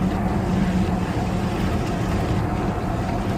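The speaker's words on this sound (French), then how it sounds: "Oh, regardez-moi toutes ces motos." A group of motorcycles rumbles past on the road, a continuous loud engine drone with no clear break between machines.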